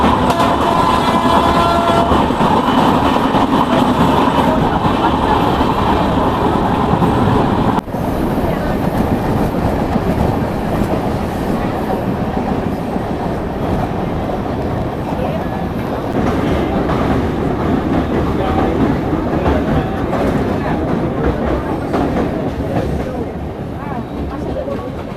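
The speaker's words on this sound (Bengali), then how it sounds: "আমাদের ট্রেন ক্রসিং করছে এখন ওদলাবাড়ি স্টেশন" Kanchankanya Express train running on monsoon-season tracks, a loud continuous rumble and rattle of carriages heard from onboard, with rhythmic clatter and a voice speaking over it.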